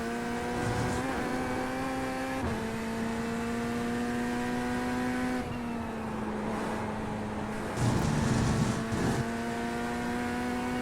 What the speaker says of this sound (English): Now Nnamdi is gunning for Doug, who is in the Mustang GT3.